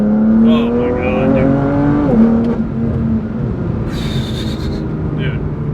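A BMW M4 GTS with a Stage 2 tune pulls hard, its engine note climbing steadily through the gears from inside the cabin, loud and continuous, with a voice briefly over it.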